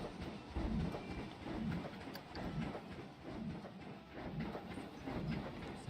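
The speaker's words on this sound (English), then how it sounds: "There's the train." A train rolls past in the Planet Coaster theme-park game, its wheels giving a steady, repeating clickety-clack at moderate loudness, with a faint bird chirp above it and no talking.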